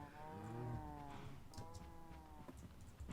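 Cows mooing in Minecraft, with several overlapping drawn-out lowing calls from a group of cattle being herded toward a sorter, sounding moderately near and fairly quiet, with no talking over them.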